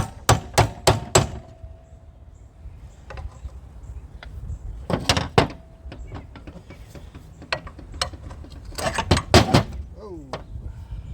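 A crescent wrench used as a hammer on a long-seized Champion pump engine, giving several sharp metallic strikes in bursts, loud and close, with quieter clanks and scraping between them.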